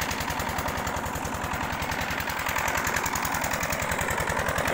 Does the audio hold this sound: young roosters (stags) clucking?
no